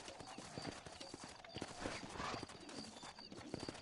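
Horse in Red Dead Redemption, with close, steady clip-clop of hooves and a brief whinny amid faint ambient game sound; no talking.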